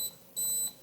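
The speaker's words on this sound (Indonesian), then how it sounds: "Berapa detik sih sampai bunyi bip panjang, itu wifi udah terkoneksi." A Caddx Walnut FPV camera emits a steady, high electronic beep, with a short tone first and then a longer sustained beep signalling its wifi connection, clear and close in a quiet room.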